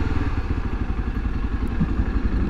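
A Honda XRE300 motorcycle engine idles close by with a steady, throbbing low rumble and light mechanical clatter, continuous throughout.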